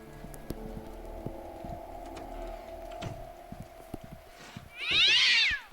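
A cat meows once, loud and drawn out, in the video game Slendrina 2D, near the end over steady background noise and scattered clicks.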